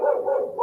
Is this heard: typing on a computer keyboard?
no